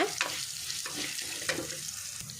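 Cumin seeds sizzling in hot oil in a pan over a low gas flame for a Mangalorean chicken curry, a soft steady frying crackle with a few spoon scrapes, no talking.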